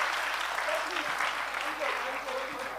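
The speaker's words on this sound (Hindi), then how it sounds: "तालियां जोरों से बजाइए इनके लिए" Audience applause at a quiz event in Jaipur fills the room steadily, a dense, even wash of clapping, while a few voices call out faintly over it.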